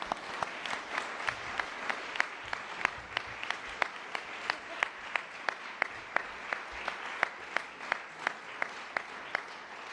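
Lecture audience applauding at an event hosted by the Scottish First Minister and the US Climate Envoy: a soft, fairly distant wash of clapping marked by sharp, evenly spaced individual claps throughout.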